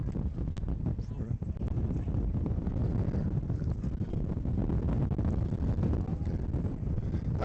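Wind buffets the microphone over a rowing race course on the water, a constant low rumbling roar with gusty bursts, while a commentator talks throughout.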